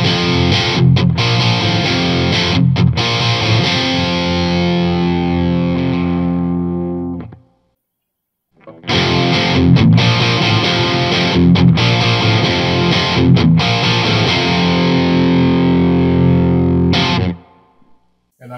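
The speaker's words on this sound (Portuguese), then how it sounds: "depois eu vou baixar a impedância do amplificador para 8 ohms. Vamos ver que vai mudar o som" A distorted electric guitar plays through an amplifier switched from 16 to 8 ohms into a 16-ohm speaker: two loud, gritty strummed passages with sustained chords, split by a short silence.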